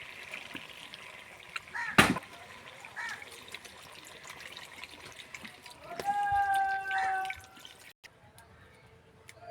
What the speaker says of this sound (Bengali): মশলা করা যে জলটা ছিল বাটি, সেই জলটা দিয়ে দিচ্ছি।